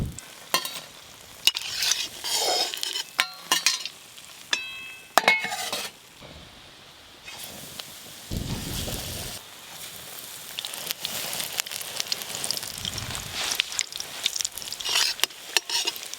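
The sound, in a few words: deep-frying pumpkin flower fritters in oil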